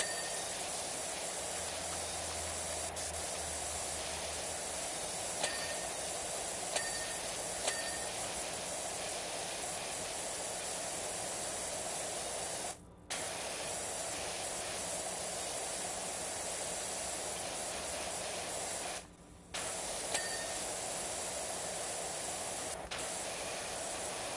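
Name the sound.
pressure washer spraying in video game Power Wash Simulator 2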